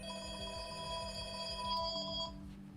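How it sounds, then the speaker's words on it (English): A telephone rings with a bright, repeating electronic trill in steady bursts, carrying on for several seconds at moderate loudness, alone with no voices over it. "There's your phone call, lady."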